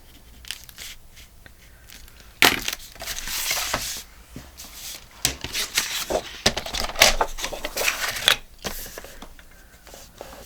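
Scissors snip through paper while making a flip and fold journal, giving crisp cutting crunches mixed with rustling and crinkling as the sheet is handled, close up with irregular bursts.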